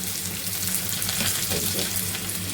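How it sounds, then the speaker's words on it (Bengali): Onion and cumin fry in a pan with a loud, close, unbroken sizzle that stays even from start to finish, without speech. "পেঁয়াজ দিয়ে দিলাম লাল লাল করে ভাজা হয়ে গেছে জিরা দিয়ে দিলাম"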